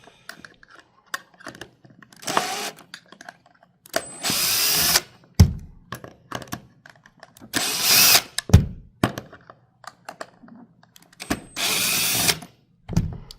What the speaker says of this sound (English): First thing we'll do is put the box wrench on the bolt head side, and then we will undo all the nuts.